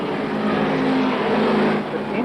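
Racing motorcycle at the 1983 Castrol 6 Hour production race, a steady loud engine drone with a sustained tone, continuous over the whole moment with faint background voices mixed in.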